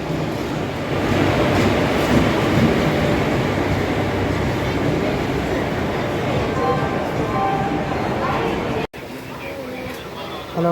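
A train pulls into a railway station at the end of a Velankanni to Shoranur journey, its heavy rumble and clatter steady and loud under background voices, then dropping abruptly near the end.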